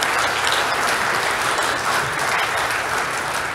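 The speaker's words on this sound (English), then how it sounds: "Let's give them a round of applause" A church congregation applauds handbell and choir performers at a Lessons and Carols service, a loud, dense and steady wash of clapping with no break.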